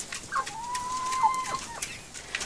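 Araucana hens in a greenhouse coop give a drawn-out, clear vocal call with a few softer clucks around it, close by, with no talking.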